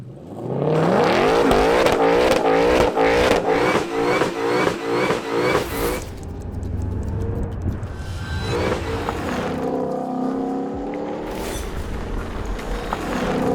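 A Ford Mustang GTD pulls away hard with traction control off, its engine climbing through several quick upshifts in rising, stepped bursts before easing off and revving again further away.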